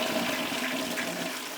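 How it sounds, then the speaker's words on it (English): A toilet being flushed after fitting a DIY infrared contactless flush mechanism, a steady close rushing of water that fills the whole short stretch at even loudness. "we'll give that a good old flush"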